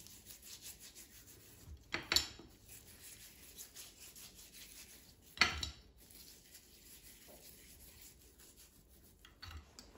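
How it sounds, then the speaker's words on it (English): A hand rubs salt and pepper over sliced potatoes for air-fryer Hasselback potatoes, giving quiet, close, intermittent scraping and rubbing, with a few sharper brushing strokes standing out. "rub the salt and pepper all over it with your hand"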